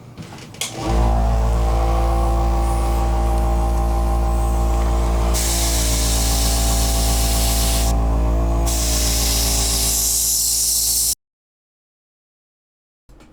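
An airbrush sprays orange-yellow paint in one steady, loud, close hiss that swells partway through, then cuts off abruptly into silence.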